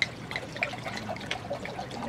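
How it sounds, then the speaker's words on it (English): Red wine pours steadily into a container with a soft gurgling trickle and light splashes, close and continuous for a couple of seconds. "I'm going to pour my red wine."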